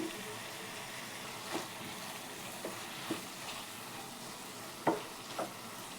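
A spiced mixture of coriander powder and salt fries quietly in a pan, giving a steady low sizzle with a few soft scraping stirs and clinks from a spoon.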